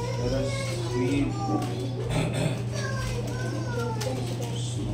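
Children play noisily during a Primitive Baptist church service, their chatter and squeals continuous over a steady electrical hum, with adult voices mixed in.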